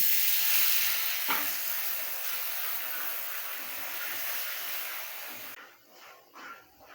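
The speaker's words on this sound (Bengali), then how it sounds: "একটু জল দিয়ে দিচ্ছি, না হলে কড়াইটা পুড়ে যাবে।" Water splashes into a hot kadai where turmeric and chili powder are frying, giving a loud steady sizzle and hiss that fades into softer, uneven bubbling toward the end.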